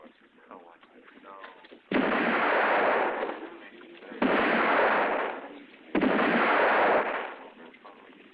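A sawed-off gun fires in a western-film scene: three loud, booming blasts, each with a long echoing tail, with dialogue heard between them.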